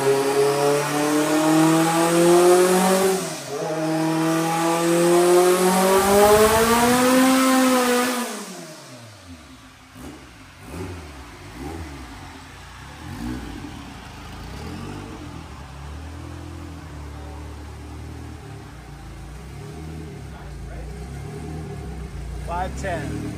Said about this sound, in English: My car's on the dyno.